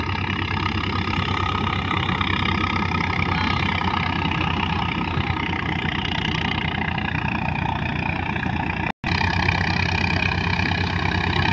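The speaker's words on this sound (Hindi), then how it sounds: "स्वराज का 855 काफ़ी दमदार ट्रैक्टर है।" A Swaraj 855 tractor engine runs steadily while making straw from wheat stalks, a loud, even diesel drone with a constant low hum and one brief dropout near the end.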